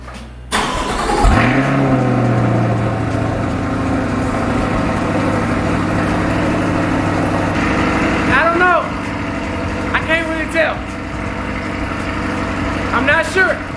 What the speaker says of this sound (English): let's go ahead and drop this cold start now.